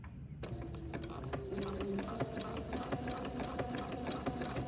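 Sewing machine zigzag stitching lace for a baby layette, a steady close mechanical whir with a rapid rhythmic needle clatter running throughout.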